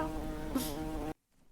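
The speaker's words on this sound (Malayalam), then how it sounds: "ഇതെന്ത് ഈ തേനീച്ചട സാധനം?" A bee-like item in the video game Steal a Brainrot gives off a steady, loud insect buzz that drones for about a second and then cuts off abruptly into near silence.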